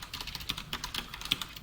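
Quick, close computer keyboard keystrokes patter in an irregular rhythm as code is typed during a beginner C programming lesson. No voice is heard.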